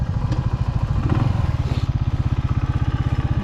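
Close motorcycle engine chugging steadily at low revs while being parked on a cold mountain road in Kaz Dağları, a loud rhythmic thump with a brief clatter early on.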